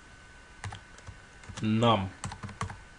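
Computer keyboard typing while a bash script is written, a run of quick close key clacks in short bursts, with someone speaking briefly in the middle.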